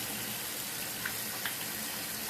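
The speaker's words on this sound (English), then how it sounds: "I'm going to turn on the water now" Water runs from a tap in a steady, loud, broadband rush with no pauses, alone and unbroken from start to finish.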